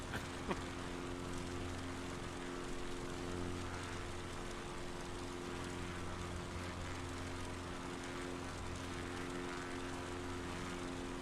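A Cub Crafter X Cub light aircraft engine drones steadily in Microsoft Flight Simulator 2020, a constant, fairly quiet propeller hum with no break.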